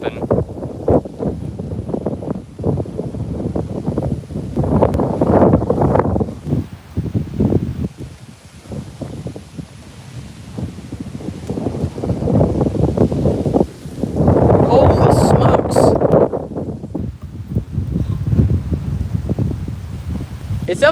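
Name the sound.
strong wind blowing during a storm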